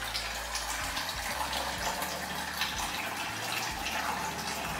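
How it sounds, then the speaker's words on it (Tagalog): Water poured into a pot of rice and lentils, a steady continuous splashing pour that runs for several seconds with no talking over it. "Tapos, lalagyan natin ng tubig."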